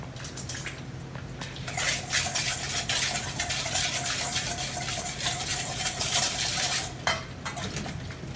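A spoon stirs smokehouse rub into melting butter in a pot for snow crab, with steady scraping and clinking against the metal over a constant sizzle and a sharp clank near the end.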